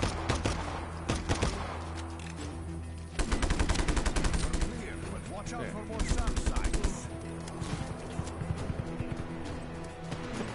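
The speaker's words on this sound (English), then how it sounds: "Who's shooting, and why?" Gunfire in the video game Just Cause 3, with rapid bursts of automatic fire and repeated shots crackling in dense clusters amid game action, and a player talking over it.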